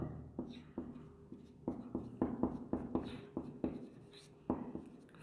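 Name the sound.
writing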